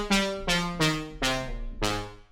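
A synth lead preset called Lead Neon, for future trance, plays five bright plucked notes with crisp attacks and ringing decays, spaced fairly evenly and heard alone.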